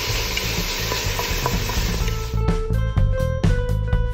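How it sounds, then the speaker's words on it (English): Onions cook down in a pan for a Sicilian-style pizza sauce, giving a steady sizzle with intermittent stirring scrapes and clinks over a constant tonal hum. "the more you cook down these onions, the sweeter you're going to get the flavor"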